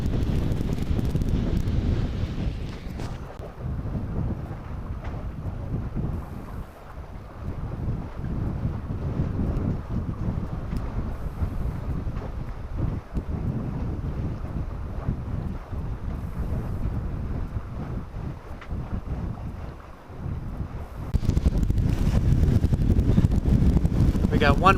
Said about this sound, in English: Nice brisk trade wind blowing through about 18 knots.